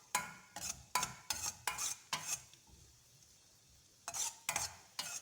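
Raisins and cashews stirred in a pan, a run of regular metallic scrapes and clinks of a spoon against the pan, a short pause, then a few more strokes.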